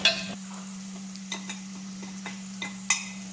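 Turmeric and chili powder frying in oil for a Chettinad chicken gravy make a soft, continuous sizzle with a steady low hum beneath, punctuated by several light scraping stirs of a spoon in the pan.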